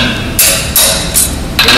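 Farrier's hammer striking a horseshoe, four sharp metallic blows at an even, unhurried pace, close and loud over a low background rumble.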